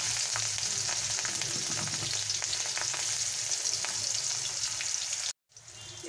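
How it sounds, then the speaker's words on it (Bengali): Slit green chillies fry in oil over a low gas flame, giving a steady, close hiss with light crackles that runs continuously, then cuts out briefly near the end before resuming. "কাঁচা লঙ্কা চেরা দিয়ে দিলাম, দিয়ে আমি এটাকে ভালো করে ভেজে নেব।"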